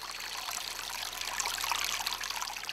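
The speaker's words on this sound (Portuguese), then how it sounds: "o barulho da água" Water of the Pardo river flows in a steady, hissing rush, with fine bubbling and trickling throughout and no voices over it.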